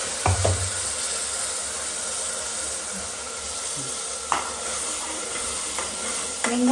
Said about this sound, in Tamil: வெங்காயம் பச்சை மிளகாய் புதினா கொத்தமல்லியை வந்து எண்ணெயில் வதக்கிக்கணும்